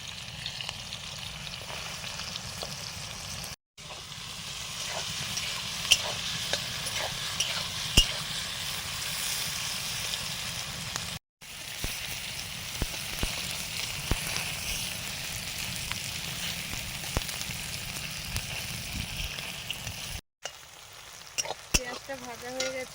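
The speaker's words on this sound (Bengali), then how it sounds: "পেঁয়াজটা ভাজা হয়ে গেছে" Chopped onion with whole cumin and dried red chilli frying in a pan, a steady broad sizzle running throughout with a few brief breaks and occasional stirring clinks.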